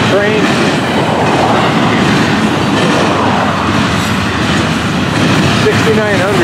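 A long double-stack freight train with piggyback cars on the FEC line passes close by, a loud continuous rumble and clatter of wheels with faint squeals throughout.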